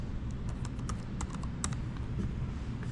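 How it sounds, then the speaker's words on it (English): Light, soft key taps on a laptop keyboard as a numeric code is entered, a short irregular string of faint clicks over a steady low background hum. "So I'll go ahead and type in"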